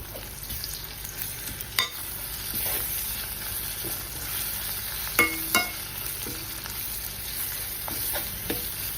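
Ginger garlic paste frying in a pan for tomato rice makes a steady, quiet sizzle, with a few sharp clinks of a stirring utensil scattered through and no talk.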